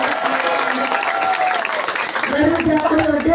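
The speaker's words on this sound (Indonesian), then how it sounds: "Masya Allah, tepuk tangan dulu dong" An audience at an Islamic New Year religious gathering claps briefly, the applause mixed with a speaking voice throughout.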